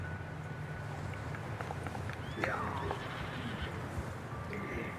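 Red Dead Redemption 2 horse gives a clear whinnying neigh midway, set against faint hoof clip-clops and an ambient game backdrop with a low steady hum.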